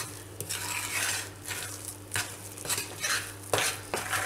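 Besan (gram flour) roasting in a pan is stirred with repeated scraping strokes and a soft sizzle, close by and fairly quiet, with no talking.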